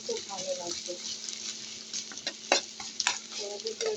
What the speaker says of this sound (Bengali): তো আমার এই যে পেঁয়াজ ভাজা হচ্ছে শাকের জন্য